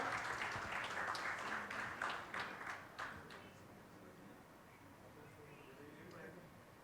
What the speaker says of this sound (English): Ladies and gentlemen, have a round of applause for them for winning this award.